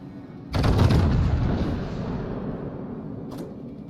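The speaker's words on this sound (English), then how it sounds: "Concentrate fire on the enemy warship." Warship guns in World of Warships fire a heavy boom that rolls on and slowly fades over several seconds, with a faint sharp click near the end.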